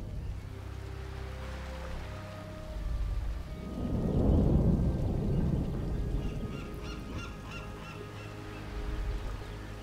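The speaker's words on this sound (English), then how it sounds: "they are beset in the open seas by a sudden, fierce storm" Fierce thunderstorm at sea in WarCraft III Reforged, low rumbling thunder building to a loud roll midway with rain and wind noise, plus scattered honk-like tones, no talking.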